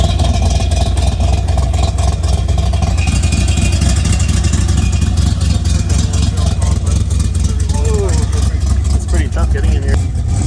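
A 1965 AC Shelby Cobra engine runs loud and close during a test drive, a heavy steady rumble with a brief rev near the end, while voices talk over it.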